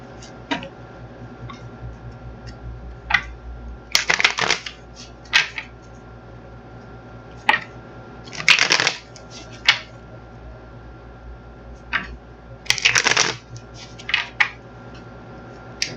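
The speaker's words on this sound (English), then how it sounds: "we're going to get these cards shuffled up" Several short bursts of tarot cards riffling and snapping together, separated by quieter ticking handling sounds, close up with no talking.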